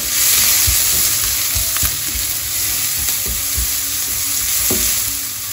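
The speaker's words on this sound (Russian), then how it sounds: "Пока у меня обжаривается лук до мягкости" Shallots frying in oil in a pan for a mushroom and nut pâté, a steady close sizzle with occasional soft clicks of a utensil, no talking.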